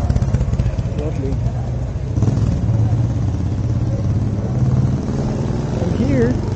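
A BMW 1800 cc motorcycle engine idles and rumbles nearby in a low, steady chug, briefly swelling, while people talk over it.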